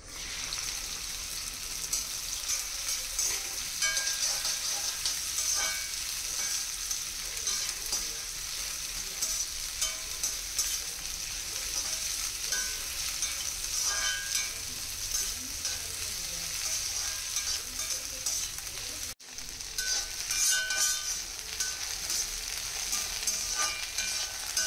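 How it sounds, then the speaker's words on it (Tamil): Okra, cut in half, sizzles steadily in hot oil in a kadai, a constant bright frying hiss that runs on its own with faint stirring, broken by one brief dropout. "இப்போ இதை நல்லா அந்த எண்ணெயில் வதக்கி எடுத்துக்க போகிறோம்"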